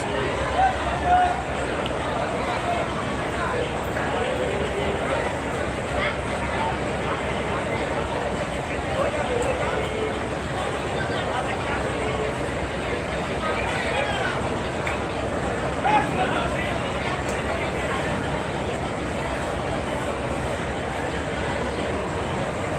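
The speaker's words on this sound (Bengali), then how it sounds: "আপনারা দেখছিলেন সদরঘাট থেকে বরিশালের লঞ্চ" Crowded passenger launch travelling from Sadarghat to Barisal, a constant engine drone and hum of onboard noise with a babble of many voices and nearby talk throughout.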